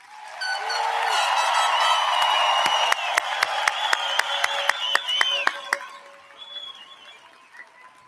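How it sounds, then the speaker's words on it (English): Applause for graduates at the Oregon Institute of Technology 2018 commencement ceremony, a large crowd clapping in a sustained wash with scattered whoops, fading to a few claps and murmurs near the end. "let's start the celebrations with a round of thunderous applause for all of our graduates"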